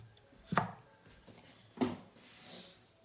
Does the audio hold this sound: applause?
no